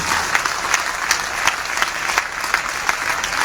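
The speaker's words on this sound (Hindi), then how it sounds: "अच्छी बात पर अच्छी ताली बजनी चाहिए" A Hindi comic poetry gathering in Ambala breaks into applause, a lively crowd clapping with distinct sharper claps popping out of the steady patter.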